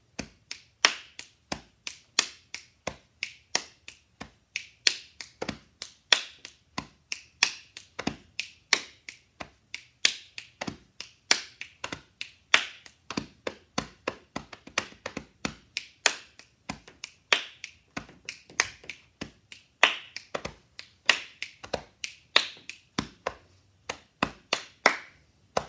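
Body percussion in a steady repeating pattern of finger snaps, chest taps and hand claps, crisp, close and evenly paced, played alone for the whole stretch.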